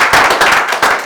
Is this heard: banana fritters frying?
no